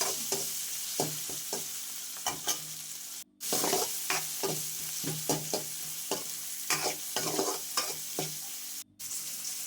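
Turmeric is stirred into a frying curry base for bendakaya pulusu, making a steady sizzle with repeated close scraping strokes across the pan and two brief dropouts.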